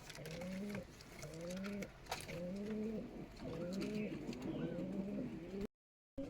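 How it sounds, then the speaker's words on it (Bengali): Local Giribaz pigeons from Rajshahi coo close by in repeated rolling phrases, several calls overlapping in a steady rhythm against a quiet background, ending with a short gap of silence. "এগুলা রাজশাহীর লোকাল গিরিবাজ কবুতর,"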